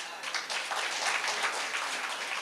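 Audience applause at a Congress political rally in Mangaluru, a dense crackle of many hands clapping steadily for a couple of seconds, crowd-sized and fairly close.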